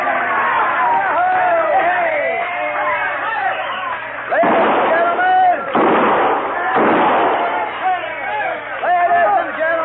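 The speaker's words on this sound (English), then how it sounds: "kindly refrain from shooting 6 guns in the establishment" Six-guns fired inside a frontier saloon in an old radio drama: several heavy gunshot bursts ring out over a loud, rowdy crowd murmur, with the shots clustered in the middle and the crowd noise constant throughout.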